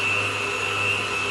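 Electric hand mixer steadily whirring as it beats a second egg into Oreo cheesecake batter, a constant close motor drone with a high whine, running alone without pause.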